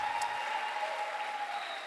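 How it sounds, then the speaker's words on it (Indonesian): At a church youth jamboree opening service, a crowd applauds the event committee with a steady wash of clapping, with a faint sustained tone under it. "Kasih tepuk tangan untuk teman-teman panitia saya."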